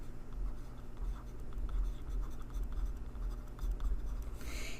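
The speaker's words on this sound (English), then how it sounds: "So I'm going to go ahead and write non-scientists here." Pen or marker writing on paper while a statistics problem on comparing two population proportions is worked out, steady soft scratching strokes over a low room hum, alone without talk.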